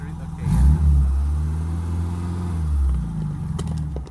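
A 1987 Suzuki Samurai's engine revs hard as its tires spin, a steady mid-pitched roar swelling early and holding close, with voices talking over it.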